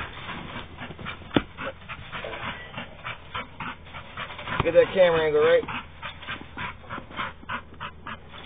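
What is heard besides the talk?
old dogs panting and whimpering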